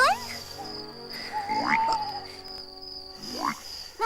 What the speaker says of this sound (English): Now a whole lot of frogs.